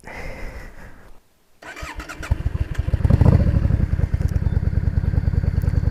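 After a brief cranking sputter and a moment of silence, a motorcycle engine with a K&N chrome-top filter and Mikuni carburetor fires up and settles into a loud, steady burbling idle.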